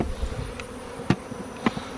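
Bees buzz in a steady dense drone around a beehive knocked over by fighting bulls, with a couple of sharp knocks standing out briefly above the swarm.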